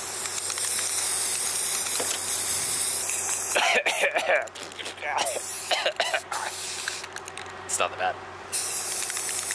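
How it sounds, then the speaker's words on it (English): A spray gun hisses steadily in short bursts, spraying glaze over Bondo-covered school bus lights, with a person talking and someone briefly coughing over the spraying. "So I'm just gonna spray this thing up"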